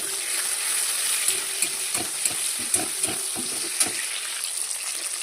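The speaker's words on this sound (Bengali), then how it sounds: "এবার দিয়ে দিচ্ছি টমেটোগুলো, টমেটোগুলো দিয়ে দিই। এবার দিয়ে দিচ্ছি কটা কাঁচা লঙ্কা পেঁয়াজ।" Tomatoes, green chilies and onion hitting an asafoetida tempering in hot oil, a steady close sizzle broken by repeated sharp scrapes of stirring.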